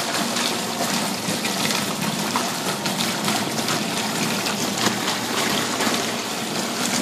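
A Mueller twin-tub washing machine agitating clothes in water, a continuous churning slosh with a steady motor hum, close and fairly loud throughout.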